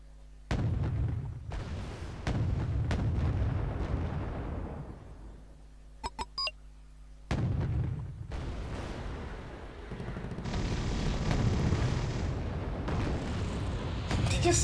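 Missile strikes and explosions in the real-time strategy game Wargame Red Dragon, heavy booms repeating in bursts with rumbling decays and sharp crackles between them, loud and close with no talk.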